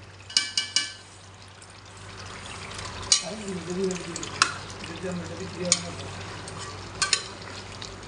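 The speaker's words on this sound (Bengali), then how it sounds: "মাংসটা একটু কষাইতেছি, আলুগুলো দিয়ে দিন।" Meat and potatoes sizzling in a pan while being stirred, a steady low frying hiss with sharp scraping clacks of the utensil against the pan every second or so, and a voice murmuring in the middle.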